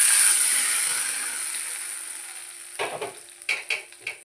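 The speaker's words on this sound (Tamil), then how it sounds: "இப்போ இதுக்கு தாளிப்பு கொடுத்துடலாம்." Tempering for coconut chutney hitting hot oil with a loud hiss that fades over a couple of seconds, followed by a few short scraping clatters.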